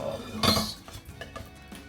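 Plates and cutlery clink while a tomato omelette is plated: one bright clatter of dishes followed by several lighter metallic taps and chinks, close and quiet, no talking.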